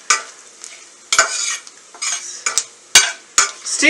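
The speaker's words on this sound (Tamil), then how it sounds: "இந்த ஸ்டேஜில் அந்த 4 பிரிஞ்சி இலையை போடுங்க, அதையும் கொஞ்ச நேரம் வறுங்க" Four bay leaves fry on a low flame in a steel pan, stirred with repeated sharp metal scrapes and clinks over a light sizzle, close up and with no talking.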